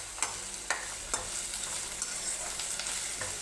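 Onions sizzle steadily in a pan for a chicken curry, with a spoon scraping and stirring in sharp, periodic strokes close by.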